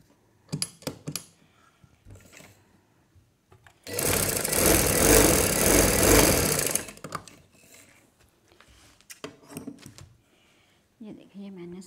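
A sewing machine stitching a baby girl's frock, a loud steady mechanical whir lasting about three seconds, with someone talking before and after the run.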